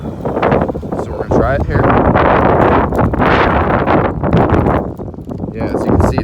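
Gusty outdoor wind at about 30 mph roars into the microphone in heavy, buffeting bursts, with someone speaking briefly over the rumble at an RC plane flying field.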